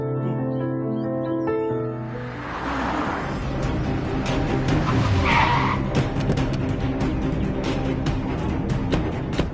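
A car pulls away with a loud screech of skidding tyres, the engine revving hard and the squeal rising over a steady roar before fading into continuing road noise; no one speaks.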